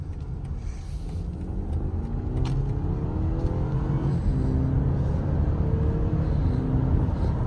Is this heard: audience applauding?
no